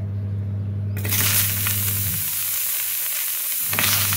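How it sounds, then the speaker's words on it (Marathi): Tomatoes roasting on a hot iron griddle for a village-style chilli-tomato chutney, a loud steady sizzle that bursts in abruptly and hisses close by, alone without voices. "टोमॅटो भाजून घेऊया."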